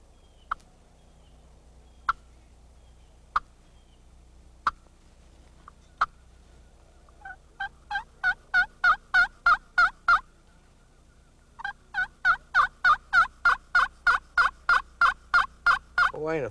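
A homemade turkey call made from old blackboard slate gives a handful of sharp single clucks about a second apart, then two long, loud runs of rapid clucking notes, close up and with no talk.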